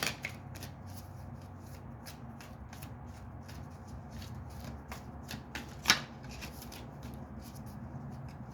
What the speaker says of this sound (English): Shuffle 3 more times.